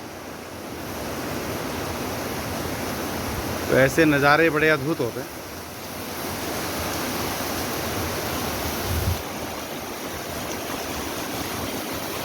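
A waterfall pours from above onto the far side of a mountain road near Munsiyari, Uttarakhand, a steady broad rush of falling water throughout; someone speaks briefly over it partway through.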